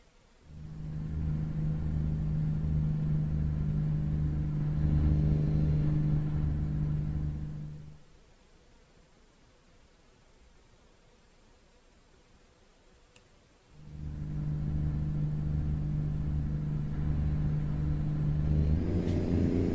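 Truck in American Truck Simulator: a steady heavy engine drone with a humming tone, dropping to quiet idle road noise for several seconds, then rising back to the loud rumble.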